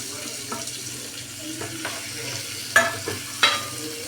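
Boiled potatoes go into a hot pan of oil tempered with chilli powder, a soft sizzle punctuated by several sharp scraping stirs and clatters near the end.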